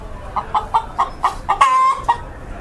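Chickens clucking close by in a steady run of short rhythmic clucks, ending in a drawn-out squawk, loud and alone.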